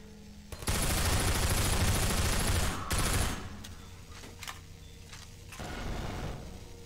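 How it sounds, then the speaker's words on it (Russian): Machine gun fire in the Half-Life 2 VR video game: a loud sustained burst of rapid shots for about two seconds, a brief pause, then a shorter burst, followed by scattered single reports and lingering rumble. "Тихо, пулемет."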